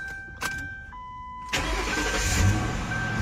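A car built on a Ford Crown Victoria base cranks and its engine catches, a short starter whir followed by a steady, close idle rumble with no talking.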